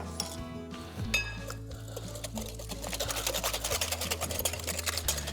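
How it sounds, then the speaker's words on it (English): Whole eggs beaten with a wire whisk in a bowl for a milk tart, giving a fast, steady run of light clinking strokes that grows denser and more rhythmic over a low background hum. "Whole eggs. I'm going to mix them with a whisk to become nice and light and airy."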